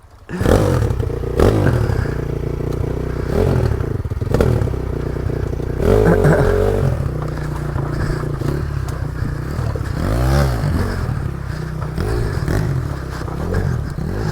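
A motorcycle engine runs steadily in a forest, a continuous close rumble with occasional clatter and scraping as it moves over rough ground, swelling briefly around the middle.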